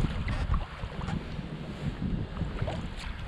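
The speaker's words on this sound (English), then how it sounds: "Wind's building already." Wind gusting over open water on Lake Superior during a sailing kayak outing, a steady rushing roar with buffeting microphone noise and a faint wash of waves, no voices.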